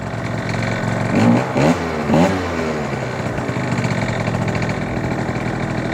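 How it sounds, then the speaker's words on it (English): A scooter engine fitted with an upgraded carburetor, running slightly lean, idles steadily up close with a couple of short throttle blips early on, then settles back to a low, even idle. "So start it up and I'll show you."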